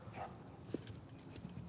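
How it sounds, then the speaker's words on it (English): A dog gives a few short, muffled barks and whimpers at a distance over low room noise, brief and fairly faint. "This dog's barking, see?"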